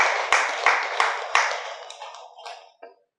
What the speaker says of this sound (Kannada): ಮತ್ತೊಮ್ಮೆ ಚಪ್ಪಾಳೆ ಹೊಡೆಯೋದ್ರ ಮೂಲಕ ಅವರಿಗೆ ವಂದನೆಗಳನ್ನು ಸಲ್ಲಿಸೋದು.